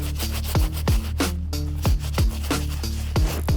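Soft bristle brush scrubbing a sneaker shoelace on a pair of Jordans, close rhythmic rubbing strokes repeating about every third of a second, with no talking.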